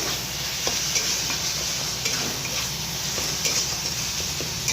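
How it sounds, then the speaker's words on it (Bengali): Flat beans (shim) sizzle steadily in a pan while being stirred, with soft scraping taps and clicks of the spatula recurring over a constant frying hiss. "আমার ভাজা হয়ে গেছে"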